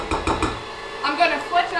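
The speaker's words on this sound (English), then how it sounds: "I've got it started mixing." Dessert batter is being mixed in a bowl, giving a short burst of clinking, scraping utensil strokes near the mic, first quick and rhythmic, then looser taps and scrapes.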